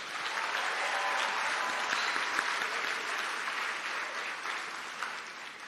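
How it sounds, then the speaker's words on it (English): Graduates at a community college commencement ceremony burst into sustained, dense applause filling a large hall, steady and loud throughout with no speech over it. "I want you guys to give yourselves a big round of applause"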